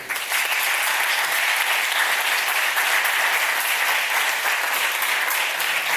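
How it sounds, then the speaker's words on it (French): Warm applause from an audience at a book dedication presentation, a continuous, even wash of many hands clapping throughout, with no voices over it. "vous demander de m'aider à applaudir chaleureusement pour le comité d'organisation"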